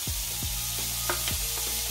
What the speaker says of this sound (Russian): жарит фарш отдельно